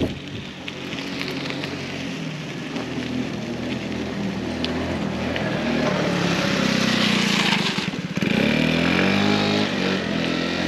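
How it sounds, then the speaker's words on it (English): A small motorbike engine drones steadily, swelling louder as it passes close by, with a rough buzzing tone and no voices. "Those little kids are riding a moped."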